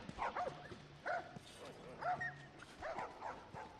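A dog in the video game The Last of Us gives four short bark-like bursts in a loose rhythm, mid-distance and fairly clear against quiet game ambience.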